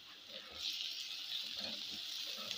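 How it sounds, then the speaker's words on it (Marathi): Three onions browning over high heat in a pan give a steady, close sizzle that swells slightly after the first half-second and holds evenly, with no voices. "आता हे चांगले असे लालसर भाजून घ्यायचे"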